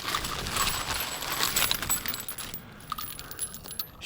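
Brass shell casings clink and jingle together inside a plastic bag, with close metallic rattling that is busiest early on and tapers off into scattered small clinks.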